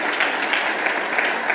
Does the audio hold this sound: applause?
yes